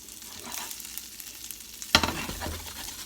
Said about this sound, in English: There we go, getting some sizzle.